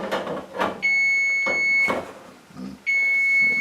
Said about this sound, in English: My timer going off.